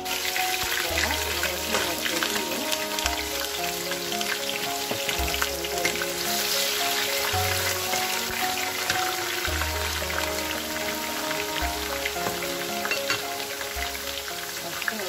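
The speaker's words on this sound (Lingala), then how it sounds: "nazoke sikoyo komanda kokalinga yango mpona kalinga bombo na biso" Leek, celery, garlic, tomato and onion fry in a pot for an okra and fish sauce, giving a steady, close sizzle that runs without a break under a bed of background music.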